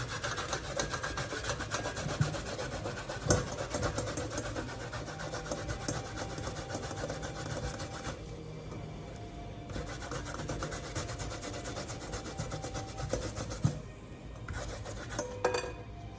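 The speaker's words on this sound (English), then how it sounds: "and then I'm gonna start the grating process" Malanga root rubbed against a hand grater, continuous scraping strokes close up with occasional knocks and brief pauses, no talking.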